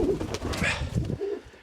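Pet pigeons at a home loft coo in low, soft murmurs, several overlapping calls repeating through the short stretch with a close, steady presence.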